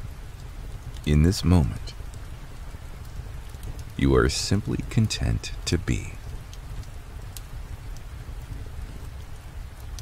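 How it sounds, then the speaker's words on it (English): Gentle rain falls steadily in a cozy homestead nature setting, a soft continuous patter and hiss running beneath a calm spoken voice. "To listen to the rain and let its gentle embrace carry you away."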